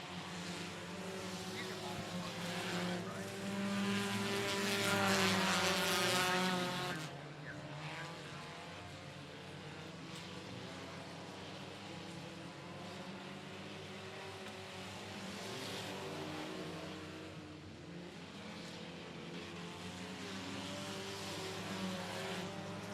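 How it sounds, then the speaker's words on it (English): A sprint car engine revs hard and high, holding near its rev limiter, with another engine and a commentator's voice mixed underneath. "High revving, hitting the limiter just about."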